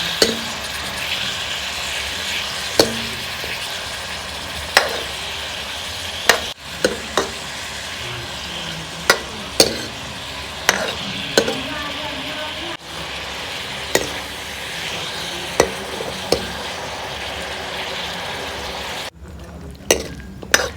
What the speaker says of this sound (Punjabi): ਇਹ ਸਾਰੀਆਂ ਚੀਜ਼ਾਂ ਨੂੰ ਆਪਾਂ ਚੰਗੀ ਤਰ੍ਹਾਂ ਹੁਣ ਰੋਸਟ ਕਰ ਲਾਂਗੇ